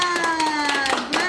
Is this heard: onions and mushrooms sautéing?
no